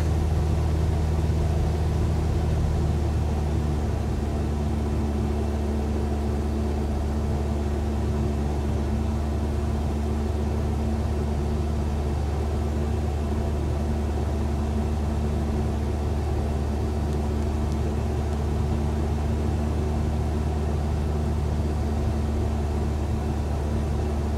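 A Cessna 172 piston engine droning steadily in cruise descent with the throttle pulled back, a constant loud low hum and rumble inside the cabin, unbroken, with no talk.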